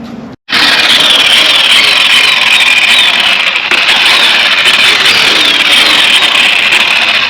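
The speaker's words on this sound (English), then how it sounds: "So now we're going to start with the compound and start polishing." A polishing machine buffs compound onto a Lexus SC430 headlight, a steady loud whirring hum that starts after a brief silence and runs continuously without talk.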